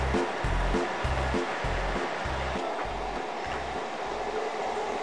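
Train running through a station on a line that crosses into Nara Prefecture near the Yamato River, with a steady, regular clatter of wheels over rail joints, loud and close, and no talking.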